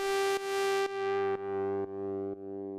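A gritty FM synthesizer lead plays a sustained harmonic-rich tone, retriggered in four or five repeated notes, each bright at onset and fading with a smooth natural release, growing duller and quieter across the phrase, heard alone.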